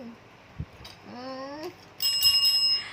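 A bright bell rings clearly, first with a short rising tone and then a sustained shimmering ring, close and loud with no one speaking.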